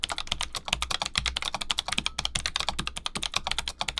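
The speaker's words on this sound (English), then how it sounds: "That is a mechanical keyboard on a laptop that cost about 500 Canadian dollars" Rapid, steady clacking of a laptop's built-in mechanical keyboard being typed on, close up and crisp, with no voices.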